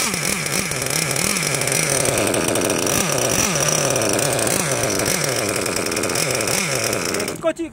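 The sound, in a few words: gasoline engine of Losi LST XXL-2 RC monster truck starting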